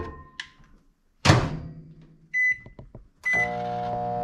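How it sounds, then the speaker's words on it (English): A microwave door thunks shut, followed by a few button beeps and then the steady hum of the oven running. "We're gonna stick this in the microwave."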